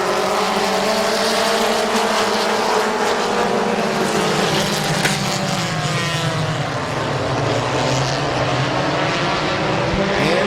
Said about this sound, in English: Terry Coletti getting ready to throw his beautiful green flag over the field. Green is in the air.